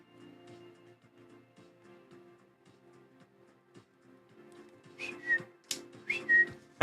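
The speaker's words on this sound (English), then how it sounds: "Having a hard time whistling this morning" A person whistling faintly and unevenly under a low background hum, growing louder near the end into a few sharp, breathy whistled notes.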